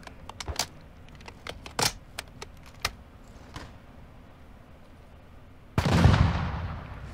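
Sniper gunfire in Call of Duty Warzone 2.0 DMZ: a string of sharp, scattered distant cracks and pops, followed near the end by a louder, heavier close burst with a deep rumbling impact.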